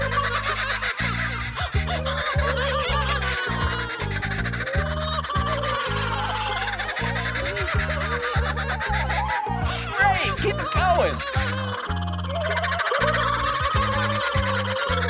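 Several people imitate kookaburra calls together, a loud, rapid, rhythmic chorus of laughing whoops and cackles that rise and fall in bursts, sounding close and lively throughout.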